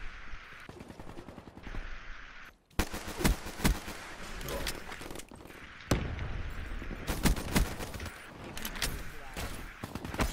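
1911 pistol gunfire in a video game, with rapid sharp shots in bursts and clusters over a busy backdrop of other gunfire, loud and close throughout.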